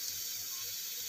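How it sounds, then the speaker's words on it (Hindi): Water from a tap runs steadily into a blender jar as it is rinsed and filled while green masala for a peas and potato curry is being cooked, a continuous close hiss with no talk. "थोड़ा जार धो के पानी डाल देते हैं"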